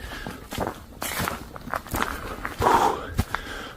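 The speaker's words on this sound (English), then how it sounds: "Freaking footsteps." Steady footsteps, a series of scuffing thuds at an uneven pace, close by and fairly loud, with no talking.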